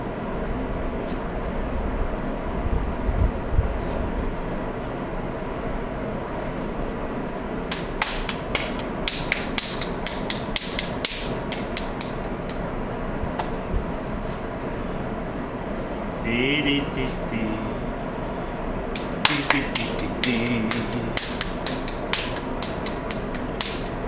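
A pottery kiln's burners give a steady low roar throughout, with occasional clicks, taps and creaks scattered over the top and faint talk in places.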